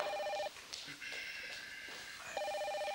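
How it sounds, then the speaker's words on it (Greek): An indoor telephone rings in two electronic trilling bursts, one at the start and one near the end, with quiet talk and room sounds between them. "πρέπει να απαντήσω το τηλέφωνο"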